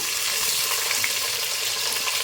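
Chopped onions hit hot oil with green chillies in a pan, a steady broadband sizzle and crackle holding evenly throughout, close and fairly loud with no voices.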